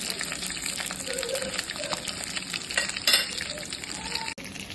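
Honey wings frying in a pan, giving a constant close crackling sizzle with small pops and a faint bubbling of oil, moderately quiet and without any speech.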